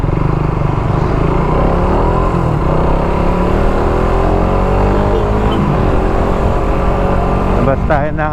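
A motorcycle running on a UMA Racing spark plug during a highway test ride, its engine droning loud and close throughout with rising and falling revs and wind rush.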